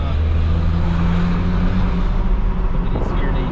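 Chipped Volkswagen Amarok 2.0 with a straight-through exhaust, a deep steady engine drone reverberating off a nearby wall from inside the moving pickup, with people talking over it.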